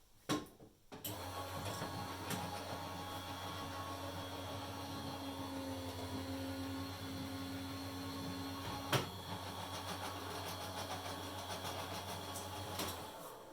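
A Glimmer hot foiling machine runs a card through with a steady low motor hum and faint mechanical whir, starting with a clunk and continuing evenly for about twelve seconds before stopping.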